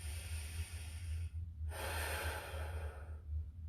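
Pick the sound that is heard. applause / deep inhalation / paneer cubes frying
deep inhalation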